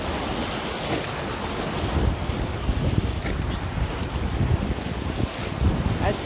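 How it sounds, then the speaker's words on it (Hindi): Waves on Lake Ontario wash and slosh continuously against a boat or shore, mixed with steady wind rumble buffeting the microphone, broadband and fairly loud throughout with no clear breaks. "इतनिया इतनिया लहरा उत्ते आ रही हैं"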